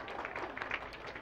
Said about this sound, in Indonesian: kita berikan dulu tepuk tangan kepada anak sekolah minggu.